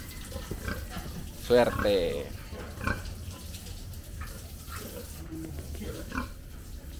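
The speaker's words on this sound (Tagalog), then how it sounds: "Videohan natin yung baboy." Pigs grunt and oink intermittently on a farm, with a louder burst of squealing near the middle, while people talk nearby over a faint background of running water.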